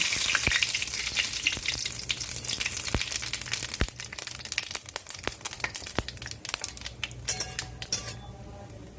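Bay leaves and cumin powder frying in hot oil for a Bengali cottage cheese curry, a loud crackling sizzle with sharp pops scattered through it that settles slightly toward the end.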